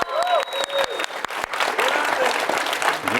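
A conference audience at the RDC 2024 event bursts into applause and cheering, loud and close, with sharp claps and whoops building into a dense, sustained ovation.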